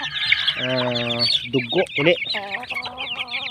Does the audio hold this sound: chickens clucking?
yes